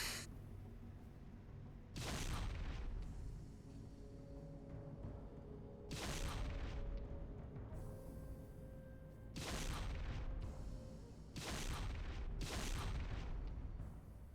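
Light guided mortar fire in Heavy Gear II: five heavy booming blasts at uneven intervals, each one a loud broadband thump with a rumbling tail over a steady low background hum.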